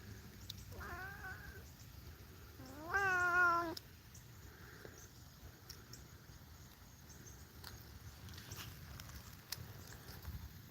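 A pet cat outdoors gives two distinct meows, a short one and then a longer, louder drawn-out call, against a quiet background of faint insect chirping and soft rustling.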